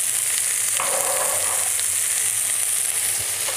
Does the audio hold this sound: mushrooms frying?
yes